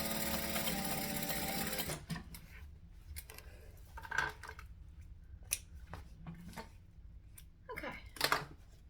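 A sewing machine stitches a bag, running in a fast steady burst at first, then stopping and starting in short intermittent runs with handling clicks and snips in between.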